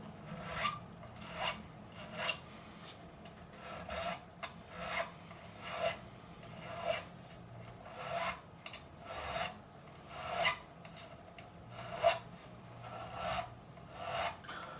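A metal file rasps across the frets of a Harley Benton guitar during a fret dress, about a dozen evenly spaced strokes, close and fairly quiet with no talking.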